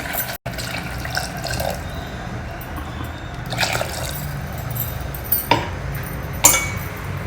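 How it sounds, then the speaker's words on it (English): Water runs steadily into a mixer grinder jar holding ground paste, a continuous splashing pour with a few light clinks of glass or metal near the end. "We will add some more water to this mixie jar."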